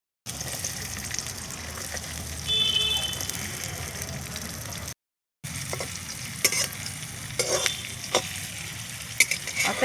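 Chopped onion fries in two spoons of oil in a pan on a wood-fired chulha stove while being stirred, with a steady close sizzle, scraping stir sounds and a brief break midway.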